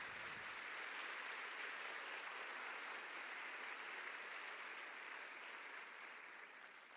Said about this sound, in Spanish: ¿Cuánto le da un aplauso al Señor en esta tarde?